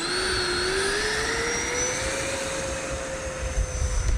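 A Freewing F/A-18C Blue Angels 90mm electric ducted-fan RC jet flies past, a loud steady whine whose pitch slowly rises and then levels off, with no voices.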